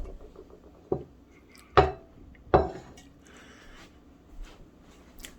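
Watermelon pieces going into a pot for homemade watermelon wine: three distinct, moderately loud knocks and thuds on the pot's sides, spread over a few seconds, with quieter soft bumps around them.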